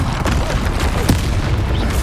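A deep booming blast from the Confringo spell in Hogwarts Legacy, layered into dense, loud combat noise with a sharp thump near the middle.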